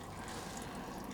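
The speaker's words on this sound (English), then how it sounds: "It's still draining, still piddling out a little bit." Engine oil from a Lotus Esprit trickles steadily out of the sump into an 8-litre drain tray, a soft continuous watery pour with no break or talk.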